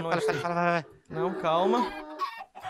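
A Minecraft chicken clucks in a run of harmonic squawks during a party minigame, sounding odd and almost pig-like, with people talking over and between the calls.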